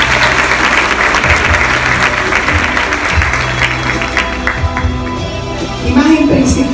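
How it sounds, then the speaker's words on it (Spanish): Sustained audience applause at a youth recognition ceremony honoring outstanding students, dense steady clapping from a crowd filling the whole stretch, swelling slightly louder near the end with faint voices underneath. "Así que un aplauso para él."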